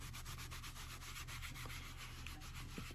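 Rubbing and polishing a leather notebook with the dry side of a cloth, a steady close-up scuffing and rubbing sound with rhythmic strokes throughout, no talking.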